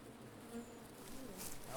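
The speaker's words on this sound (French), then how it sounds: "On voit que quelques abeilles qui sortent et qui rentrent" Honeybees buzz around the entrance of a beehive as a few fly in and out, a steady soft drone with faint passing buzzes close by.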